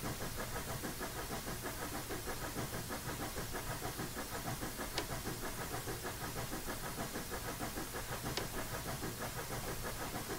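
A ride-on miniature train running with a steady, dense mechanical engine drone and rattle, loud and continuous with no break, plus two brief faint high squeaks.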